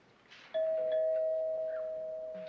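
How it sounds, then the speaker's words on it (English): A doorbell rings once with a clear, sustained chime that lingers and slowly fades, with faint room noise underneath. "That's the doorbell."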